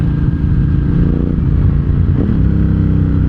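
A Ducati Hypermotard 1100 EVO SP motorcycle engine rumbles loudly and steadily close by, a deep throbbing drone with a slight surge near the end and no talking.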